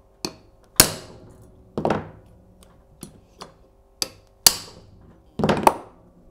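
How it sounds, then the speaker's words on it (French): Sharp taps with a socket free the half-moon valve keepers on an engine's valve springs: about eight crisp, close metallic knocks at irregular intervals, some ringing briefly, with quiet between them. "un petit coup sec avec une douille, ça fait dégager les demi-lunes"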